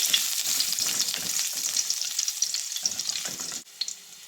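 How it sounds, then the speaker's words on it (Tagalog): Garlic sautés in a hot pan with a loud, crackling sizzle and bursts of spattering, while stirring scrapes come through before the sound briefly drops near the end. No one speaks. "Gigisa na tayo. Unahin muna natin yung bawang."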